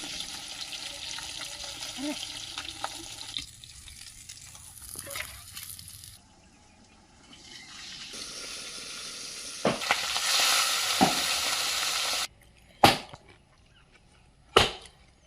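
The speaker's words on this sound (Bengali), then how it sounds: "এখানে আমরা মাছটাকে খুব বেশি কড়া করে ভাজব না যেন ভেঙে না যায় সেটা মাথায় রেখেই ভাজা হচ্ছে" Pieces of mrigal fish fry in oil in a pan, a steady broadband sizzle that drops away midway, then returns with a louder hiss before a few sharp utensil knocks near the end; no one speaks.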